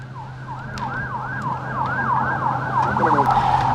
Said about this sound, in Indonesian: Ambulans membawa para korban ke rumah sakit Al-Najda di Nabatiyah, Lebanon Selatan.